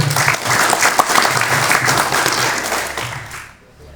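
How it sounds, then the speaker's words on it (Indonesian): An audience at a martial arts grading event applauds an athlete being introduced, producing loud sustained clapping over a low hum that fades out near the end. "Tepuk tangan."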